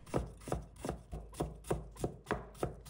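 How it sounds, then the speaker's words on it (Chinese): Fresh ginger being sliced into thin strips with a knife on a board, a steady run of about ten crisp, evenly spaced chops, close and quiet. "再准备1块生姜，把它切成丝。"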